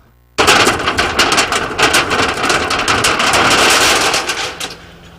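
During a storm, the metal roof of the Stanwix Heights fire station is torn off, making a sudden, loud rush of crashing, rattling metal and wind-driven clatter that starts abruptly and keeps going for several seconds with no speech.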